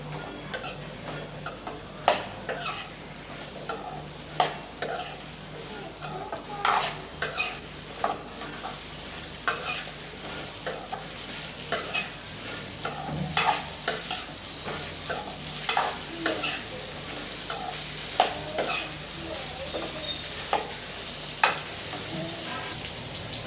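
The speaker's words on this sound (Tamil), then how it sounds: "ஒரு 2-3 நிமிஷத்துக்கு நல்லா வெண்டைக்காய் கொஞ்சம் வழவழப்பு தன்மை போகிற வரைக்கும் நல்லா வதக்கி விட்டுக்கலாம்." Okra (ladies finger) sautéing in hot oil, a continuous sizzle broken by frequent sharp scrapes and taps of a spatula stirring against the pan.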